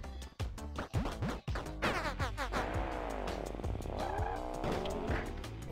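Car called Betsy in the video game Death Road to Canada, its engine revving and sweeping up and down in pitch with squealing, skidding tires, loud and continuous over steady game music.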